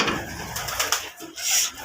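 Pigeons coo softly in a loft, with brief murmuring calls and faint rustling close by.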